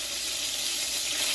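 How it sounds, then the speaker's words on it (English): Patties fry in a hot pan on a home stove, giving an even, steady sizzle up close with no talk. "my pan is hot, heating. They're frying."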